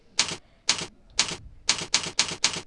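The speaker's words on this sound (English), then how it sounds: "at the MySQL prompt, you type the command as the follows" Keys on a computer keyboard struck in short, crisp bursts while a command is typed at a MySQL prompt, seven distinct clacking clusters close to the mic with brief pauses between, no voices.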